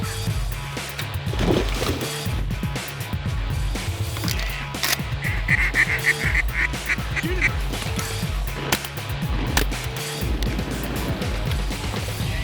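Pintail ducks calling amid a waterfowl hunt, with dense overlapping honks and quacks from a nearby flock running continuously and loudly throughout, no talking.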